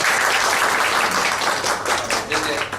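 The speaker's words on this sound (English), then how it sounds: "can we have a round of applause for him?" A crowd at an inauguration event claps for Sachin Rane in a loud, dense burst that thins toward the end, with voices talking over it.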